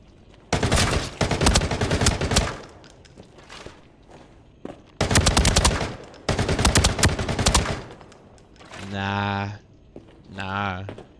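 AR rifle fire in the video game Arena Breakout comes in four sharp rapid-fire bursts, loud and close, followed by two separate tonal buzzing sounds.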